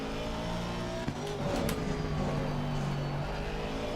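Race cars in a big-grid sim racing game, engines droning close by as one pulls alongside, with a brief tire chirp and shifting engine pitch, loud and continuous.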